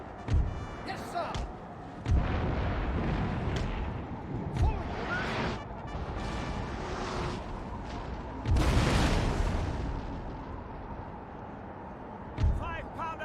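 Five-pounder howitzers of a British army fire in Napoleon: Total War, sending several heavy booms spread across the stretch amid battlefield din, with voices talking over much of it.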